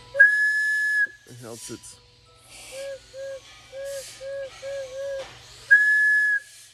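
Thin, steady whistle tones from a cuckoo clock's bellows whistle blown softly by mouth, with a long held note at the start and end and a run of short pulsing tweets between.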